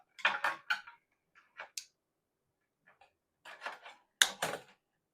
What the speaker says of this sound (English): So you measure like this and cut with your plier.